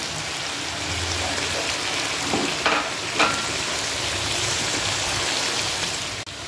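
Tomato added to garlic and ginger browning in hot oil, a loud, steady sizzle and spatter with a few stirring scrapes, close up and continuous.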